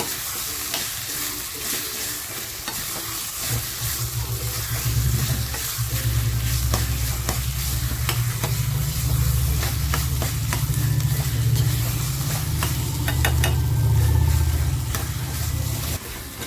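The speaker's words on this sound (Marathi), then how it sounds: "ज्या शेवग्याच्या शेंगा घेतल्या होत्या त्या आता ह्याच्यामध्ये मसाल्यामध्ये फ्राय करून घेते मी" Drumsticks fry in a fish masala with a loud, steady sizzle and a low rumbling stir, while a spatula scrapes and ticks repeatedly against the pan and no one speaks.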